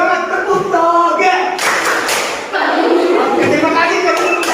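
Indonesian schoolchildren perform the 'tepuk toge' clapping chant, a burst of group hand claps and slaps in quick rhythmic bursts mixed with singing voices, loud and near in a classroom.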